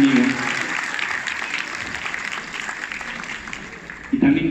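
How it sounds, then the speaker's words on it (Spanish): An audience at a conference applauds in a steady, dense clatter of clapping from many hands throughout, fading slightly before a voice starts speaking at the end. "Si me dan un aplauso para él, se los agradecería."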